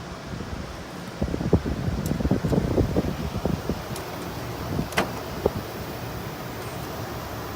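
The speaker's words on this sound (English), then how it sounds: "GE air conditioner. Let's start it up." A GE 14,000 BTU air conditioner runs with a steady fan-like whoosh, close and fairly loud, with scattered rattling clicks and soft thumps early on.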